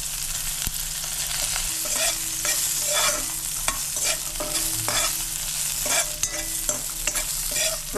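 A whole peeled garlic clove frying in oil in a pan with peanuts, stirred steadily with a utensil, giving a continuous close sizzle broken by frequent light scraping and clinking taps.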